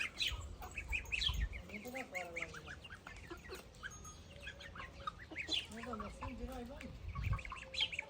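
Honking and squawking of geese at close range, scattered calls overlapping, with people talking nearby.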